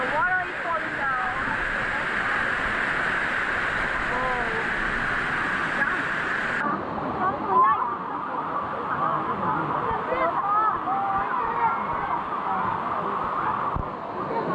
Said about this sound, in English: And the water is falling down.